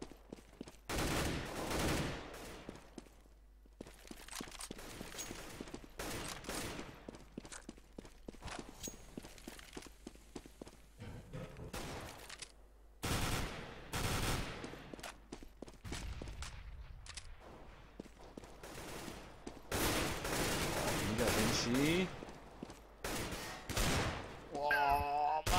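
Bursts of rifle and pistol fire in a Counter-Strike match on de_nuke, with rapid volleys and single cracks scattered across the round alongside footsteps and in-game movement noise, some shots loud and close, others more distant.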